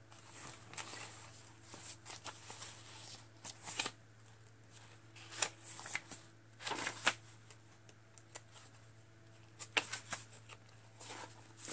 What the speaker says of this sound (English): Some of this paper, like this one here, is from Tsunami Rose